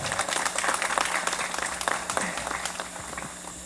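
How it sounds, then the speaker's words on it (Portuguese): A wedding crowd applauds the couple, dense clapping that stays loud and steady for a few seconds before easing slightly. "Aplausos para o casal."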